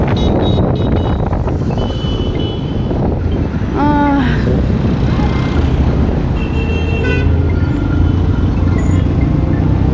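Dense, loud road traffic roars continuously, with vehicle horns tooting and a rhythmic beeping near the middle.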